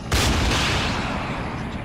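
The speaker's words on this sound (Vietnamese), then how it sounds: "Phóng tên lửa." A Mi-28N attack helicopter launches Ataka rockets at a vehicle convoy in ARMA 3, one sharp blast followed by a long roaring, fading whoosh, with no voices.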